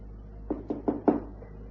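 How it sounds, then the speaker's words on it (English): Four knocks on a door come at an even, unhurried pace, fairly close and moderately loud, with the last rap slightly heavier, over a quiet room hum. "I went back down here, and I tapped on the door"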